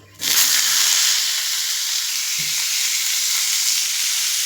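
Chopped onions and garlic cloves hit hot oil on a tawa with a sudden loud sizzle that settles into a steady, bright frying hiss, close up, with a brief low knock partway through and no voices.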